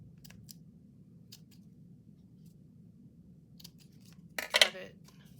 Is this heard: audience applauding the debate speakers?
no